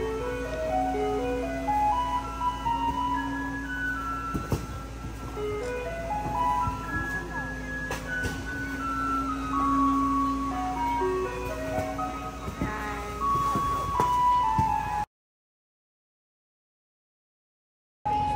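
A garbage truck in Taiwan plays its chiming melody as it passes along the street, with a steady run of bright notes over the hum of traffic, and then it cuts to silence near the end.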